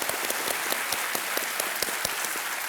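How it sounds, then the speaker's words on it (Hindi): Studio audience on a Hindi quiz show set (KBC) applauds to welcome a contestant, a steady dense wash of clapping with sharper individual claps throughout, loud and close with no talking. "तालियों के साथ एक बार फिर इनका स्वागत।"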